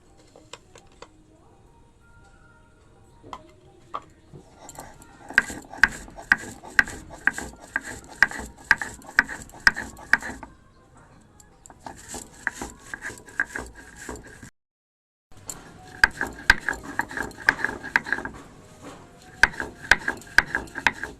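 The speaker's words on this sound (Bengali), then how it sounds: "শুকনো খোলাতে রাঁধুনি আর সর্ষে ভেজে নেওয়া হয়েছে এটাকে আমি বেটে নেব" Dry-roasted radhuni and mustard seeds being ground by hand on a stone slab, giving rhythmic gritty scraping and rubbing strokes in repeated bursts with brief pauses, close and fairly quiet, with no talk.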